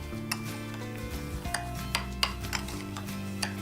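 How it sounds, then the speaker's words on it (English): Almond oil hand scrub ingredients being mixed in a bowl, with soft scraping and rubbing strokes and light clinks of a utensil against the container, quiet and close, no voices. "Mix all ingredients together really well."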